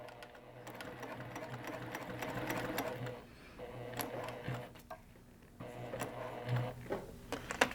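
A sewing machine top-stitches a zipper onto vinyl in several quiet, rhythmic runs broken by short pauses, with small clicks and taps between the bursts.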